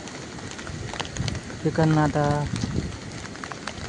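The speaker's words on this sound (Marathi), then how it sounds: "बेकार पाऊस आहे. बघा बघू शकता" Heavy monsoon rain falls on paddy fields in the Konkan countryside, a steady close hiss throughout, with someone speaking briefly over it partway through.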